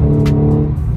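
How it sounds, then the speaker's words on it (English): Engine of a 2014 Audi S5 heard up close in a brief, loud, steady rumble with a deep tonal drone and no talking. "And the car sounds fantastic."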